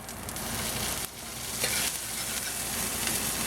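Ginger and garlic stir-fried in a pan for General Tso's tofu: a steady, close sizzle with scraping stirring strokes throughout, briefly dipping near one second before continuing.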